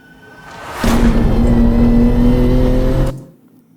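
A BMW M3 engine revs hard and loud through its exhaust after a rising whoosh, holding a growling, pitch-climbing roar for a couple of seconds before cutting off.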